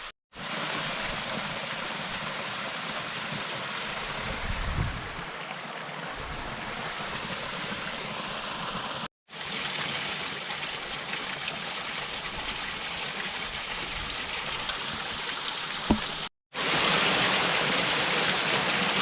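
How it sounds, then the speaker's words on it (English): Water cascades steadily over and under rocks in a narrow stretch of Elk Mountain's creek, a dense, continuous rushing roar close by, broken by two abrupt cuts to silence. "It's like some underground, under rock waterfalls in here"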